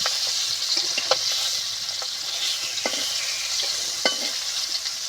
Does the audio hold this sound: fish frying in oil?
yes